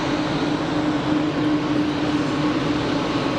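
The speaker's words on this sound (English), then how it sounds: "KLM cruising out" A KLM passenger jet departing Geneva Airport gives a steady, broadband engine roar with a sustained low hum, constant in level throughout and carrying no speech.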